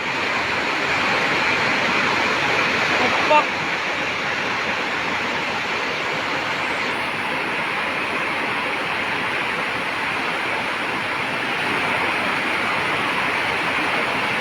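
The flooded Bharathapuzha river rushes past, a loud, steady roar of churning water that fills the whole scene without a break and with no voices over it.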